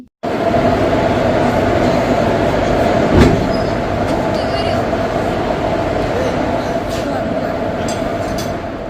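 A train rumbles steadily at a station, with continuous rolling noise and a faint metallic squeal, a brief thump midway through.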